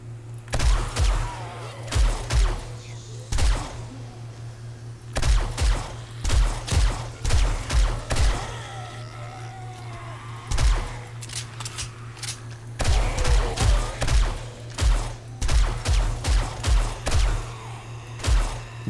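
Pistol gunfire from a horde-survival video game, loud sharp shots in quick bursts of several at a time, separated by brief pauses, over a steady low hum.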